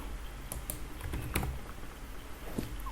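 Computer keyboard keys are tapped in a short, uneven run of soft clicks, close by and fairly quiet over a steady room hiss, with no voices.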